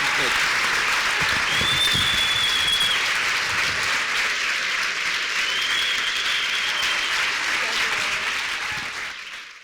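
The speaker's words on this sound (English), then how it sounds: "Let's all give him a round of applause." Warm audience applause at a Veritas Forum event with Cornel West, a full steady roar of many clapping hands that holds evenly and fades toward the close.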